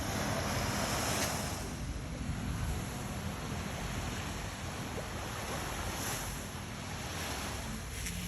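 Sea waves wash steadily onto the coast at Canlucani, Dapitan City, with constant wind buffeting the microphone; a continuous, fairly loud roar with no talk.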